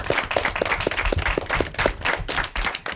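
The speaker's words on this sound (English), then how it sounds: "I want a big round of applause." A round of applause at an elementary school derby match, with brisk, steady hand claps from a small audience that carry on for the whole stretch without any voices.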